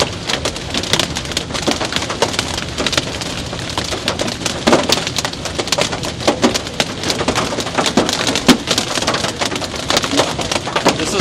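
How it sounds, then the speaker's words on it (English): Very small hail pelts a car during a Kansas storm chase, a loud, dense, unbroken clatter of sharp ticks on the body and glass, heard up close from inside with no voices. "is all very small hail"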